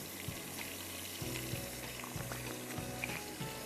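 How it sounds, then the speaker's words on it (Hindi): Qeema with spices sizzles in a pan, a soft steady frying hiss with occasional stirring scrapes and clinks, close and fairly quiet. "अब आप ये देखते चले जाओ कि मैं इसको अच्छी तरह भून रही हूँ"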